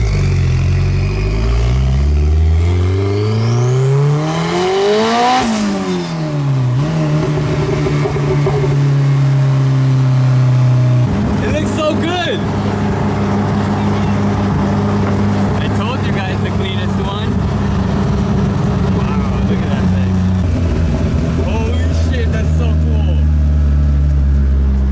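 1930 Ford Model A with a home-built setup, its engine revving up and down in sweeping pitch bursts, then settling into a steady loud running drone, with a voice talking over it.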